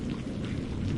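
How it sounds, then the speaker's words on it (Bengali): Steady rain with a low rumble of thunder falls at night in a rural outdoor setting, a dense continuous wash of sound with no clear breaks and no voices. "আরে বৃষ্টি আসার আর সময় পেল না, তাড়াতাড়ি চল।"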